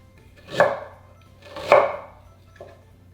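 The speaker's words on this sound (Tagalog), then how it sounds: "Matapos na mabalatan yung luya, hinihiwa ko lang ito ng maliliit na peraso." A knife chops peeled ginger into small pieces on a board, giving two distinct cuts about a second apart and then a faint third, close and sharp with no talking.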